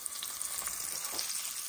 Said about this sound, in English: I am frying my smoked Polish sausage for my fried cabbage